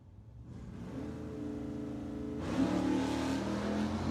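Drag racing cars launching down a quarter-mile strip at a dragway, one a Ford Mustang, engines droning steadily before a louder roaring surge as the cars accelerate away.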